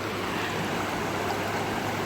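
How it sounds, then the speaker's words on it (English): Rushing stream water below a waterfall, a steady broadband wash of cold flowing water filling the scene, loud and close with no speech. "wading through this freezing water"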